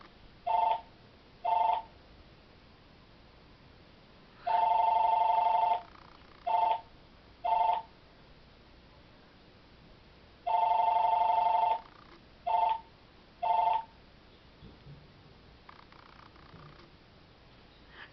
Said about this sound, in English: That's the phone going off.